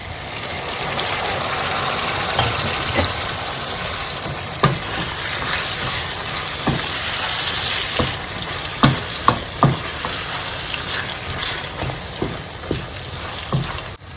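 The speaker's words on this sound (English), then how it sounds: "we'll go ahead and add our blended tomatoes, pepper and onion." Blended tomatoes, pepper and onion fry in a pot for a vegetable sauce, giving a steady loud sizzle with scattered sharp clicks and stirring knocks throughout, and no voices.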